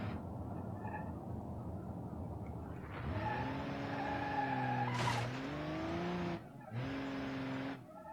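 A Hopper driven in BeamNG.drive on a Swiss Alps ski jump course: its engine revs rise and fall in loud, clear sweeps, with a short tire squeal or skid and a brief cut in sound before it picks up again.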